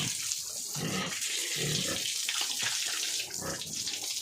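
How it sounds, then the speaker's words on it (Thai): Water runs steadily from a tap or hose while a pig is bathed outdoors on a hot, sunny day, a continuous close splashing rush with no talk. "น้ำก็ยังไหลอยู่ ก็เลยได้โอกาสนะคะ อาบน้ำให้น้องๆนนะคะ น้องหมูนะคะ"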